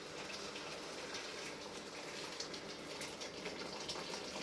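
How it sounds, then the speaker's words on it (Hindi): Boiled water poured into fried lamb shanks for curry gives a steady, soft gushing and splashing, continuous and close, heard alone without talk. "अब मैंने इनको भून लिया तो अब इसमें डाल रही हूँ पानी।"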